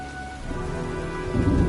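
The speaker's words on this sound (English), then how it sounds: "looks like a storm's coming" Steady rain pours in the video game Heavy Rain while low thunder rumbles underneath, a dense, close wash of sound that swells louder toward the end as the storm approaches.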